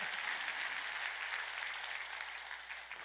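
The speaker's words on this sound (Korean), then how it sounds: "박수쳐" Congregation clapping together during a Korean church worship service, a steady, fairly quiet wash of many hands that holds evenly for the whole stretch with no talk over it.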